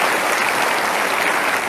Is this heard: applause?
yes